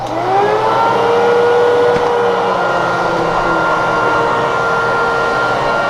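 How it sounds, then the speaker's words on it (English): A vacuum cleaner runs indoors, cleaning a bedroom for bed bugs, producing a loud, steady, whining drone that continues unbroken throughout. "So, vacuum, good friend. And just vacuum up everywhere."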